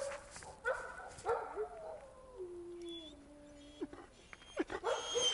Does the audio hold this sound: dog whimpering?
yes